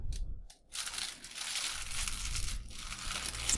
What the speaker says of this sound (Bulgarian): Започвам да се режа спанака.